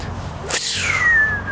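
A sharp golf driver swing whoosh cuts through the air, followed by a thin descending whistle trailing off, loud and close.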